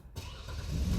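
A car engine catching via push-button start, a brief crank that rises straight into a steady idle rumble, close and fairly loud, with no voices.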